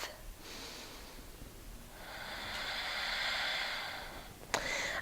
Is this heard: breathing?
yes